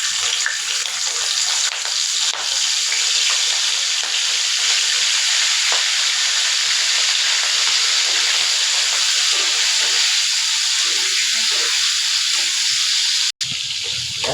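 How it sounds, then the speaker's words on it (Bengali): Shrimp fry in hot oil with a loud, continuous hiss and sizzle that holds steady throughout, cut by one brief break near the end, with no talking. "আগে মাছটা তেলের উপরে একটু ভেজে নেব।"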